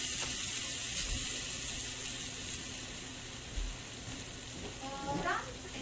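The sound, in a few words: olive oil sizzling in a pan on the stove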